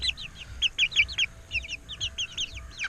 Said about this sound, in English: Yeah, this is our rooster right here.